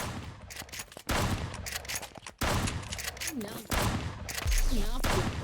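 Gunfire in a battle royale video game firefight, repeated rapid bursts of shots in several loud volleys separated by short pauses, with people talking in between.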